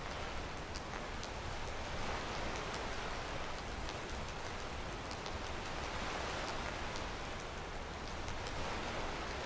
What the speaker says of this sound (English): I like the rain effects on the screen.